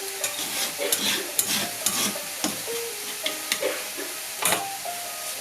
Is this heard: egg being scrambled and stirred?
yes